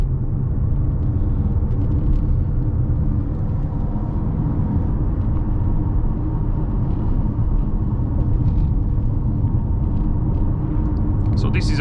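2020 Mercedes GLB front-wheel-drive SUV driving hard through a handling test, a steady loud engine and road rumble with tyre noise running throughout, close and continuous.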